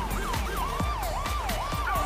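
A police car siren in the Los Santos video game wails continuously, rising and falling in a wavering pattern over a steady low engine rumble, with no talk for about two seconds.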